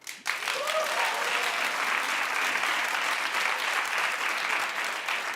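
An audience breaks into sustained, dense applause that swells quickly and holds at an even, loud level, with a brief voice at the start before the clapping takes over.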